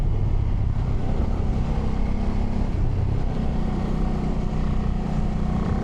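Ducati Multistrada V2s motorcycle engine pulling hard on a winding road, a loud steady drone mixed with wind rush for several seconds with no pauses, close and continuous.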